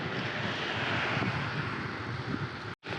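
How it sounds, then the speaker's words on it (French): Passing highway traffic at night makes a broad, steady rushing roar while riding alongside a motorway near Ferrières-en-Brie, continuous and fairly loud before cutting out briefly near the end. "On sent qu'on passe une autoroute"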